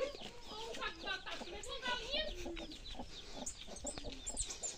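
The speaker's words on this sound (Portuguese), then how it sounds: "Eu tenho uma galinha deitada aqui também," A hen lying in a trough on a rural farm in Guaribas clucks in quick, repeated, fairly close bursts. A voice is faintly audible underneath.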